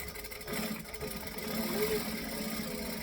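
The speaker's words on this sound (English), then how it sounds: "I can top stitch along that top edge" A sewing machine top stitches along the top edge of a fabric piece, a close, continuous mechanical whir with slight changes in speed and no break.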